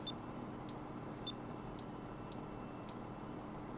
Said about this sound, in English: I'm not sure why it beeps.